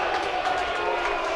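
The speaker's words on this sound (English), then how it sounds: "crowd not happy about it as the ball just lands" Dense crowd noise fills a college baseball stadium during Arkansas versus Florida, a continuous rumbling wash of voices reacting with displeasure, steady in level and heard from a distance without any clear individual speech.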